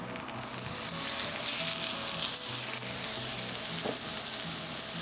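Thinly julienned carrots sauté in a little oil with a loud, continuous sizzle that holds steady and close, broken by a brief stirring scrape near the end.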